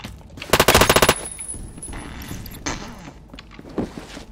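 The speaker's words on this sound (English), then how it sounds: "who's shooting me?" Rapid automatic gunfire in a first-person shooter video game, a loud burst of about a dozen shots in quick succession, followed by quieter game ambience with scattered thuds and one more distant shot.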